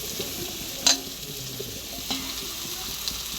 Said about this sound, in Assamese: এয়া আকৌ অকণমান লৰাই দিম মছলাৰ সৈতে